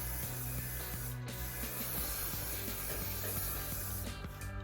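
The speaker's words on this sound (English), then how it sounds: "So I'm using the Garnier Fructose Style Volume Hairspray" Garnier Fructis Style Volume hairspray hisses in a steady, continuous spray onto hair while buns are styled, with faint rubbing and handling noises underneath.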